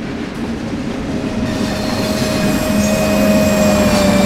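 Train departing a station in Train Sim World 2 on the Ruhr-Sieg Nord line, a steady rail rumble and rising wheel drone that grows slightly louder as it pulls out, with no talk.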